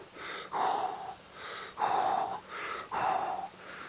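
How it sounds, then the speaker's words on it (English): Deep, audible breaths during a yoga pose, a slow cycle of loud close inhales and exhales with a slight wheezy edge, repeated about four times without talk. "You could use some big breaths now if you want."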